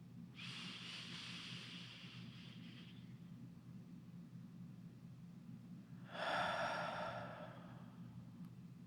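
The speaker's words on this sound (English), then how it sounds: "the beginning is always just listening to us breathing" Slow guided breathing during a group breathing exercise: a long breath runs for a few seconds, then after a pause a second, louder breath, both close, over a quiet room hum.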